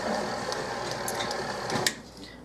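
An electric mixer beats cherry pie bar batter with a steady mechanical whir, close and moderately quiet, ending with a brief clatter.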